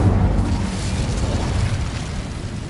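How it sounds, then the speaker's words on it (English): Incendio fire spell cast in the Hogwarts Legacy game, a loud, low, roaring whoosh of flame that rumbles steadily for a couple of seconds, heard alone. "Incendio."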